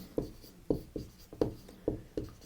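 Chalk or marker writing a heading on a classroom board, a series of faint rhythmic strokes and taps at roughly half-second intervals, close and quiet with no talking.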